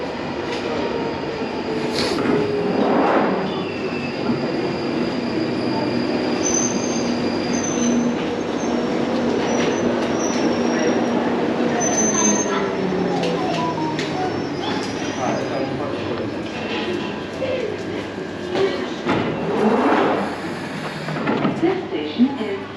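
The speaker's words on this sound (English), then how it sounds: "here's my train" A London Underground Northern Line train runs through Colindale station, with rumbling wheels, shrill squeals and rail clatter building and fading over a long stretch, while voices and station sounds carry beneath.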